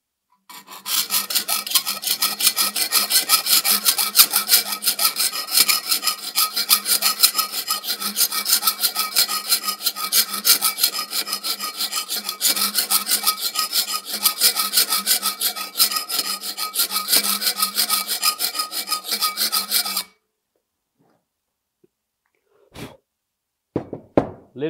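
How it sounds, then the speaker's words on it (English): Hand file working on wood for a DIY moneybox, a steady close rasping run of rapid strokes lasting about twenty seconds, then stopping, followed by a couple of faint knocks. "when you're using your file, it only works on the forward stroke, doesn't work on the back"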